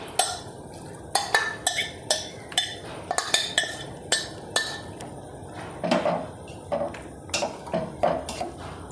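Shredded chicken pieces going into a pot of chicken soup, with a series of sharp metallic clinks and scrapes of a utensil against the pot in an irregular rhythm, close and fairly quiet, no talking.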